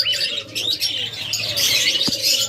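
Pet birds chirping in a breeding setup where pairs are kept for sale, a busy chorus of high tweets running steadily throughout with a soft coo and brief flutter mixed in.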